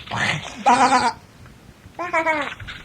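A voice imitates a goat's bleat in two wavering, quavering calls separated by a short pause, close and clear.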